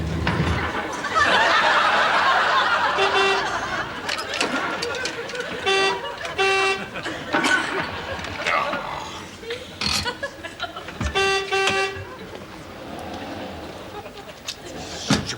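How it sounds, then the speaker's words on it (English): A car horn honking repeatedly in short blasts from a nearby car, heard under loud voices and laughter with engine noise underneath. "Don't sit there honking"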